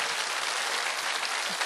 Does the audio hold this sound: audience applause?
yes